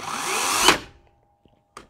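A WORX 40V 14-inch electric chainsaw whines loudly, then cuts out abruptly as the chain brake snaps on, followed by near silence and two faint clicks.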